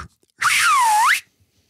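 A single voice imitates a whistling boat with one sustained, loud whistle-like tone that dips smoothly in pitch and rises again, lasting under a second, with silence on either side.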